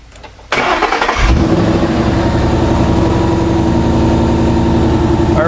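A car engine cranks and fires during a battery cranking test with a TopDon ArtiBattery101 tester: a brief quiet, then a loud crank catching about half a second in, settling into a steady, close idle that runs to the end.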